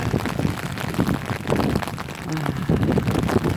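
Steady rain falls outdoors among lush green plants, a dense continuous patter close by that swells and eases slightly throughout, with no voices.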